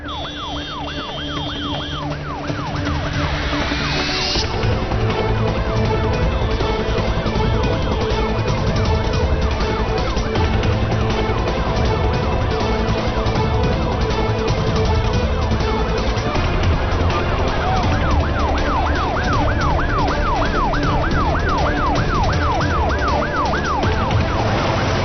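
An ambulance siren wails through traffic, loud and close, cycling between rising-falling wails and rapid yelps over a dense wash of road and engine noise for the whole stretch.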